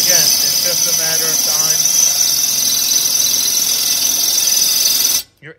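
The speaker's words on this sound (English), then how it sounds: "Your enemy when you're drilling porcelain tile is heat." A drill bit grinds slowly through porcelain tile at low speed, a steady high-pitched whine and scrape that runs without a break for about five seconds before stopping abruptly.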